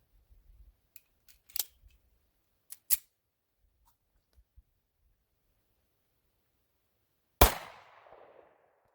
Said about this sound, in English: we're going to shoot the steel plate from here